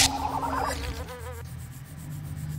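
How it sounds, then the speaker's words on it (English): Sting Bee insect swarm from Oddworld: Stranger's Wrath HD, a buzzing whine with a quick warbling burst, then a fading droning hum over low game ambience. "Fire at enemies to delay them and deal damage. Sting Bees pursue enemies."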